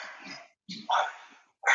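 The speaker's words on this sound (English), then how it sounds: "Oh, my dog's going off." A French bulldog barks in short sharp bursts, three or four close yaps separated by brief silences, loud and near with no talk over them.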